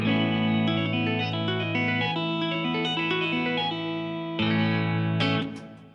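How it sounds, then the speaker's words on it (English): Yamaha CP1X electric piano played through heavy compression, chords sustaining loud and dense with a distorted, clipped edge, then a fresh chord and a fade at the end. "probably clipping the signal as well there"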